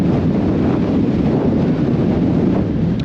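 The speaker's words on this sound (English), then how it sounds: "I think we're well above 30 miles an hour as just the normal speed of wind just now." Strong, steady wind roars over a cold mountain summit near Loch Earn, gusting well above 30 miles an hour and buffeting the microphone with loud, continuous rumble, without speech.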